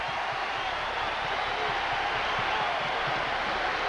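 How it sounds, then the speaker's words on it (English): A steady, dense murmur fills a basketball arena during a Kentucky versus Georgia Tech game, the crowd noise even and sustained throughout with faint thumps that may be a ball bouncing underneath. "Crowd's a little antsy in here."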